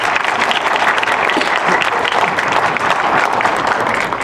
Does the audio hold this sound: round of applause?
yes